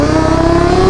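A motorcycle engine revs hard and close for a wheelie attempt, one brief loud steady drone that rises slightly in pitch near the end.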